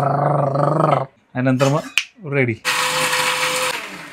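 Kitchen mixer grinding coconut, onion and coriander: after a few seconds of talking, a loud, steady whirring roar cuts in and runs close up to the end.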